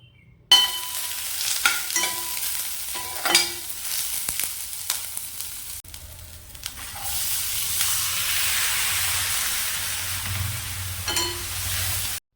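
Onion, green chili and curry leaves drop into hot oil in a pan and sizzle, with a few stirring clatters, then a steady loud frying hiss.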